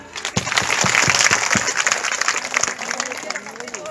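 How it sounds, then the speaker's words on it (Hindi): Audience applause at a women's day event, dense clapping swelling at the start then thinning out, with a voice speaking over the fading claps toward the end. "एक बार अपने लिए जोरदार तालियां।"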